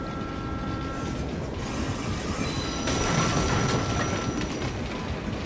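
A game train in Assassin's Creed Unity brakes hard on its rails, with steady metallic wheel squeal and rumbling rolling noise lasting throughout, growing slightly louder midway, with no voices.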